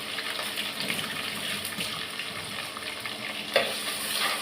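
Curry leaves fry in hot oil, a close crackling sizzle with stirring, steady throughout and punctuated by a sharp clink near the end, no voices.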